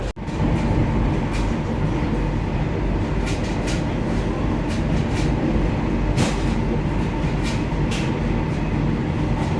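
Inside the Vande Bharat Express running from Dharwad to Bengaluru, a loud, continuous cabin rumble carries on with scattered sharp clicks and rattles from the wheels and carriage.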